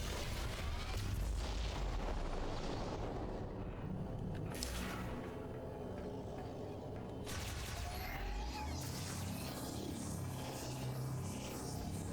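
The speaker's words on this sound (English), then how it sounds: "Explosive force exceeding its threshold, so a power bomb" Power bomb detonating in the Metroid Prime 4: Beyond video game, a sustained roaring, rumbling blast with low booming energy and crackling bursts lasting several seconds, loud and continuous without talk.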